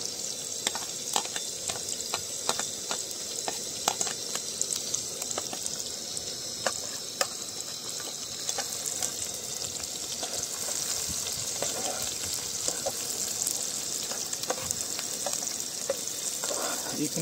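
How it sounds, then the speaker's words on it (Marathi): Chillies sizzling and frying steadily in a pan beside cooked onion, a loud close crackle with scattered pops and stirring clicks that runs the whole time. "आता मित्रांनो मिरची टाकायची."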